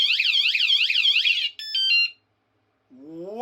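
A motorbike or bicycle anti-theft alarm mounted on an e-bike blares a loud, rapidly warbling electronic tone, then switches to a short burst of stepped beeps before falling silent and starting up again with a rising pattern.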